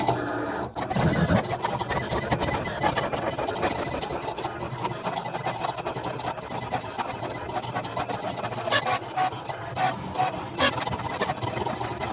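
A Cricut Explore cutting machine slices through card, giving a steady mechanical whirr with busy, scratchy buzzing and small clicks that run on without a break at close range.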